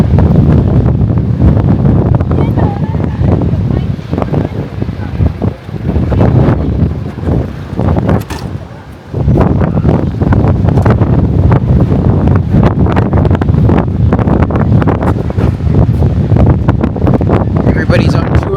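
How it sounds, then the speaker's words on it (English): Strong wind at Cape Point roars across the microphone in heavy, continuous gusts that dip briefly before surging back, loud and close, with a person talking over it. "It's really windy"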